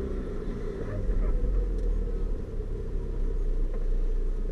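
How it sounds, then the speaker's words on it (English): Truck engine idling after a brake cylinder replacement, a low steady rumble heard close with slight swells in the drone and no speech. "I got the truck started and charged up, it's running"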